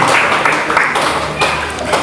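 Church congregation applauding, a steady dense wash of clapping that holds loud and even throughout, with a voice faintly beneath it.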